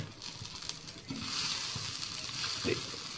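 A dosa sizzles on a hot pan, a steady broad hiss with faint crackles that swells slightly after the first second, heard close with no talking.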